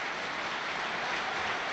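Crowd applause at a Sunderland football match against Sheffield Wednesday, a steady dense wash of clapping from a large stadium crowd, continuous and fairly distant throughout.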